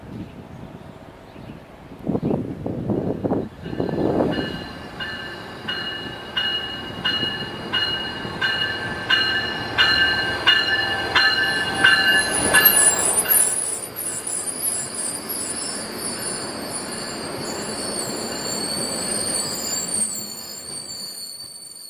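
A commuter train rumbles into a station platform and slows, with loud screeching wheel squeals and hissing brakes building, then a steady electronic chime as it settles.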